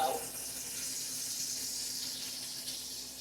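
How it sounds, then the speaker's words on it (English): Water pours steadily into a measuring cup while a cook prepares broth alongside pan-seared pork chops, making a continuous close splashing hiss for about three seconds. "I'll use a measuring cup so that we know exactly how much water we're using"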